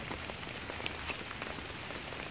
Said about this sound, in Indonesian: Ini baru turun hujan.